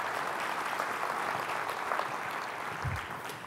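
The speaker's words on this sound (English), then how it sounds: "Let's give a round of applause for what you have done and what Certified Angus Beef has done." Audience applause at a beef industry presentation, a steady, moderately distant wash of clapping that fades slightly near the end, with a brief low thump.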